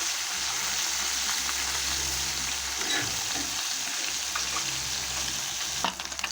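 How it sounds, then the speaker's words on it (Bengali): Small puti fish fry crisp in hot oil, giving a steady, close crackling sizzle with faint stirring scrapes throughout and no talk. "তার জন্য মাছটা খুব কড়া করে ভেজে নিতে হবে।"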